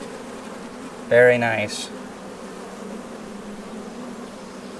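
Honeybees hum steadily around an open hive during an inspection of a spring package colony, a low continuous drone running under the whole stretch while a person speaks briefly near the start.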